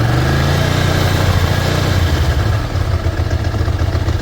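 A Ducati ST2 motorcycle engine idles loudly up close, a steady low rumbling throb with a mechanical clatter, dipping slightly near the end.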